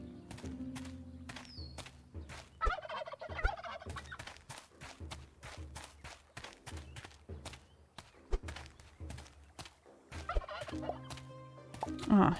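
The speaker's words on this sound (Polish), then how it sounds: "i zabiłam indyka" Turkeys gobble repeatedly in the farm-management video game Travellers Rest, with bursts of rapid warbling calls separated by sharp clicking and tapping game sounds.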